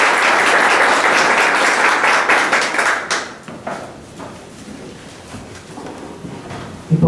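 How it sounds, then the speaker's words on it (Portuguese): A congregation at a baptism Mass claps loudly in dense, sustained applause for about three seconds, then it fades to scattered claps and quiet room noise. "Salve de palmas para a palavra de Deus"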